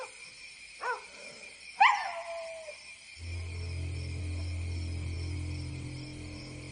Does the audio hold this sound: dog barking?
yes